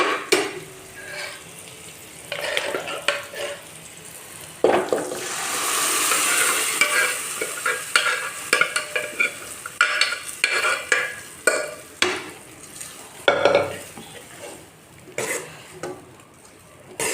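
Cooked dal being stirred in a tadka pan as it simmers, with a soft sizzle and repeated scrapes and clinks of the spoon against the pan, close and steady.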